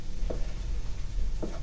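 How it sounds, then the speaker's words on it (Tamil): Ginger garlic paste frying in masala for a Tamil vegetable rice, a steady low sizzle with two brief spoon stirs, close and moderately loud. "அதை போட்டு நல்லா வதக்கணும் இந்த மசாலாலேயே"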